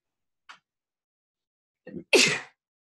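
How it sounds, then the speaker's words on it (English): A single close, sharp sneeze preceded by a faint breath and a short inhale, otherwise quiet. "I gotta sneeze. It's gonna happen."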